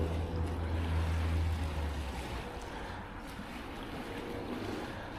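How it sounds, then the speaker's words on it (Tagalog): Calm lake water lapping gently toward the shore in a quiet, steady wash, soft and continuous with a faint low rumble, no voices. "Yung alon ng tubig papunta rito."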